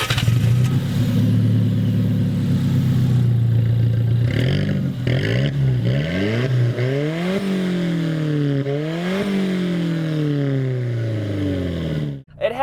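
A 2016 Alfa Romeo 4C Spider's engine revs loud and close, its pitch sweeping up and down through several rises and falls before cutting off abruptly at the end, with no talking.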